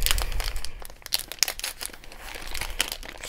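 A foil pack of Score football trading cards is torn open by hand: crackling, crinkling wrapper and sharp rips, close and fairly loud, in irregular bursts without talking.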